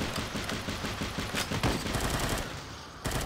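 Rapid automatic gunfire in the zombie shooter game Unkilled, a dense continuous stream of loud close shots with a few sharper bursts, running almost without pause.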